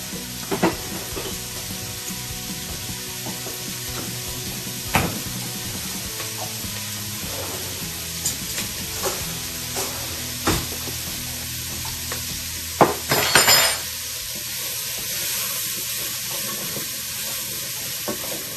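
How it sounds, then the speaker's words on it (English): Onions, carrots and small potatoes sizzle in a pan for braised lamb shanks, a constant close hiss broken by scattered clicks and scrapes of stirring, with a louder burst of activity toward the end. "All you're doing is letting these onions cook down a little bit"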